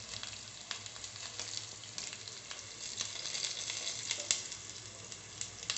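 Chana dal, coriander seeds and cumin frying in hot oil for a Mangalore cucumber huli give a steady close sizzle with soft crackles and occasional sharper pops, and no talk.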